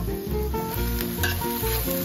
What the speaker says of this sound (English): right now I'm making some stir fry